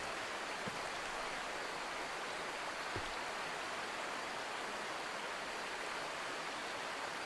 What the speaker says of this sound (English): So again, this crazy loud river.